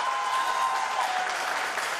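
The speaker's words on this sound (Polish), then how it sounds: "Oklaski na niej." Audience applause at a harvest festival in Gierałtowice, a steady dense clapping from a crowd that fills the whole stretch at even loudness, with no pause.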